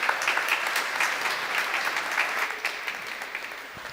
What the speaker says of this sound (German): Ja, ich denke, das ist einen Applaus wert.